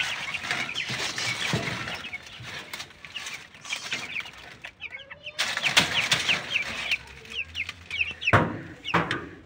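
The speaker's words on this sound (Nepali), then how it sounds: "कति राम्रा राम्रा चल्लाहरू" Newly arrived young chicks at a home cheep in shrill, rapid peeps, with many overlapping calls close by. The chorus stays busy throughout, with a short lull partway through and a few louder bursts of fluttering and clucking.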